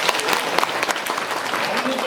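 Audience applause at a monthly prayer meeting of an evangelization apostolate, a steady dense clapping from a crowd that fills the whole moment at even loudness, with a voice briefly heard near the end.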